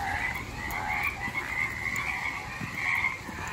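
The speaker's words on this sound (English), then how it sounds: "I'm guessing spring is here because the bullfrogs are out." Bullfrogs croak in a steady spring chorus, a dense, continuous stream of overlapping calls at moderate distance with no voices present.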